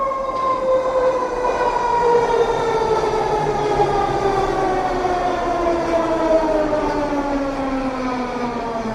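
A Vancouver SkyTrain pulls into Nanaimo Station with a loud, steady rolling rumble and whine, descending tonal bands sweeping down as it slows, continuous and fairly close throughout.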